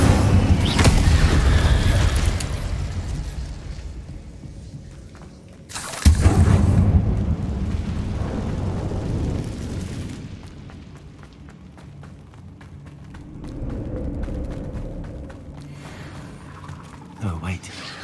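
Spell explosions such as Incendio and Bombarda in the video game Hogwarts Legacy: heavy booming blasts, one loud burst midway and another near the end, under rumbling effects and shouted voices.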